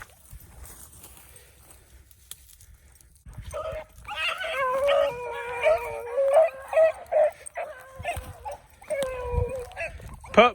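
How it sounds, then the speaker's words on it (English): A dog pup howls and yips repeatedly in wavering bursts, fairly close, after a quiet opening with faint background noise, outdoors in snow. "did y'all hear that pup?"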